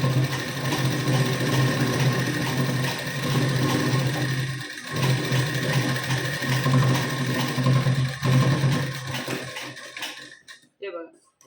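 A sewing machine runs steadily along a blouse seam, its close, continuous mechanical whir holding for about ten seconds before stopping near the end.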